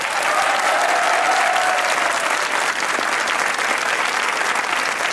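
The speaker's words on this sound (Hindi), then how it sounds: "तालियां बजाइए" A studio audience on a comedy talk show claps steadily and loudly throughout, a dense unbroken wash of hands close to the microphones with no one speaking over it.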